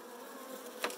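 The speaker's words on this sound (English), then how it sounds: "Now here you can see the bees." Saskatraz honey bees buzz steadily during a package hive install, a soft continuous drone close by with a brief louder swell near the end as a few bees pass near.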